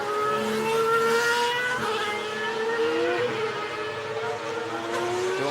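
A Superleague Formula single-seater at Zolder crossing the finish line, its high engine note sustained and loud with rising and falling pitch as it passes, racing ambience around it.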